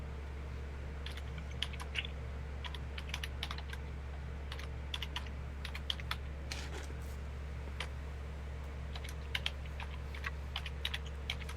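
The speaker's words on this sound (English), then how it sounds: "I can hear that keyboard." Rapid clicking of a computer keyboard being typed on, irregular bursts of keystrokes over a steady low electrical hum, fairly close and moderately quiet.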